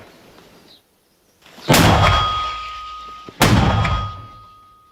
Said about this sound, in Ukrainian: Міномет МП-120 це зброя українського виробництва.